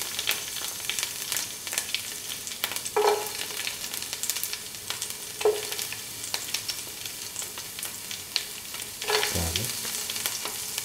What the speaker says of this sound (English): Put in the shallots.